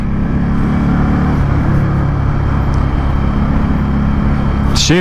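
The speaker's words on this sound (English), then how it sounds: "Shifting on this bike is so smooth though." An Indian Scout motorcycle ridden through traffic, its engine droning loud and steady up close with a rough low rumble and wind buffeting, ending in a short sharp burst.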